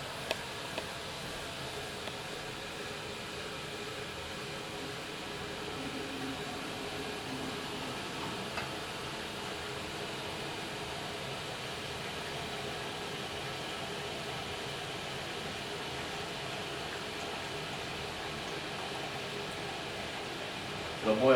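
An electric hot pot heats water with the lid open, giving a steady, low, broadband hiss that holds evenly throughout without pauses.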